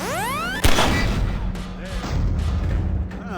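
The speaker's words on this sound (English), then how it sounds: "Now, the firearm of your choice and shoot the device." A single loud gunshot from a firearm in Half-Life 2: Episode Two fires at the device on a Strider, a sharp crack followed by a rumbling boom and ringing tail, with game sounds around it.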